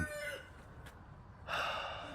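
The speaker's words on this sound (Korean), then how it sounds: "정말 저 녀석들 기싸움 하고 있어요. 장닭 2마리가." Two roosters crow while squabbling outdoors on a rainy February day, with one strained, hoarse crow fading into a second louder crow that sounds at a moderate distance over steady rain noise.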